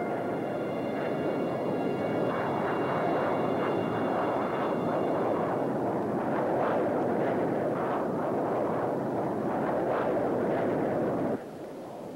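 A military jet engine at high speed and full throttle during an intercept gives a loud, continuous roar with a rushing, rumbling texture that swells midway and drops slightly at the end.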